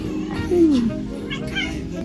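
A pet cat at home gives one short, soft meow that slides downward. It sits under a steady low hum, with a voice talking faintly around it.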